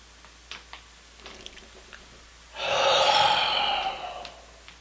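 A person takes one long, deep, audible inhale through the mouth during a guided breathing exercise, close and breathy, lasting about two seconds after a few faint small mouth sounds.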